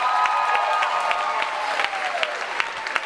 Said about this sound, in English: can we have a round of applause for all of our contestants?